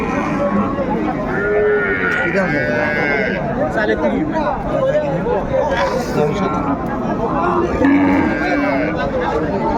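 Cows and calves mooing at a busy village cattle market, several overlapping calls scattered through constant crowd chatter and nearby talking.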